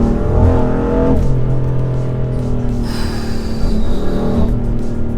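A powerful 580 hp BMW M3 engine with a loud exhaust revs close, rising and falling in pitch as the throttle is blipped, with a rumbling idle between.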